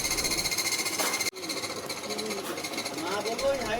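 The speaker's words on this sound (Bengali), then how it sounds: "তারপর এই মেশিনটাতে ভালোভাবে পেশাই করে নিতে হবে" Electric grinding machine milling soaked lentils (dal) into paste, a steady loud rhythmic mechanical whir that briefly cuts out and restarts, with someone speaking over it.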